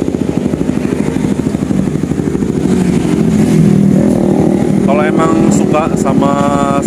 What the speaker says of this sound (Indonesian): Sama suara knalpot yang adem gak terlalu berisik, ini rekomend banget, Cing.